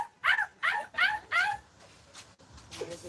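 A man imitates a dog barking, a quick run of four sharp, yappy vocal barks followed by quieter trailing sounds.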